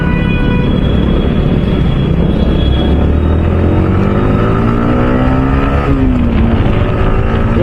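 Loud continuous engine drone from inside a car, with a rising whine from a noisy gearbox as gears shift and the revs change pitch.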